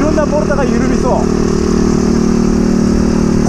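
Steady, close engine drone from a Suzuki Choinori scooter fitted with a swapped Monkey-type horizontal engine while riding on a road, running continuously under wind noise, with a brief voice early on.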